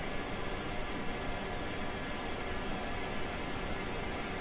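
A plane engine in the video game Stone to Space drones steadily at a constant level, a faint, even, jet-like rushing hum with no change throughout.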